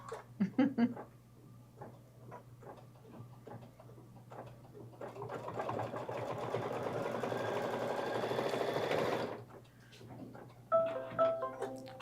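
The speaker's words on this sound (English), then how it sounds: "she's going to do 2 placement stitches for her leaves" An embroidery machine sews placement stitches for a Kimberbell crossbody bag design, a steady, fast mechanical whirr lasting several seconds at moderate volume, with brief taps and someone talking before and after.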